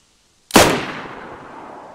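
A single loud Mosin rifle shot in a video game cracks sharply after a moment of silence, then rings out in a long decaying echo, with no talking.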